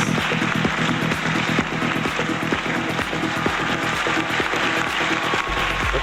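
Audience applause at the Indywood Film Carnival at Ramoji Film City in Hyderabad, a dense continuous wash of clapping from a large crowd, steady and loud throughout, blended with background music and hall noise.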